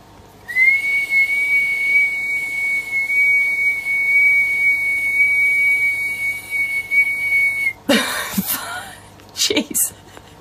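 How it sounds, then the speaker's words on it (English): A single long, steady human whistle holds one pitch for about seven seconds, followed by a burst of breathy noise and rustling. "that is the longest whistle I've ever done"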